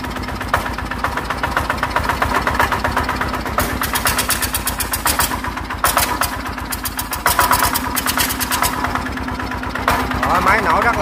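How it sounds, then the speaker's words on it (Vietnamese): A Yanmar NFAD8 single-cylinder diesel engine runs close by with a rapid, even chugging beat and rattling clatter, steady throughout, with someone talking over it. "máy nổ rất là im luôn nha anh em"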